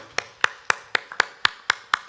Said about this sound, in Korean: 환영의 박수 한번 치겠습니다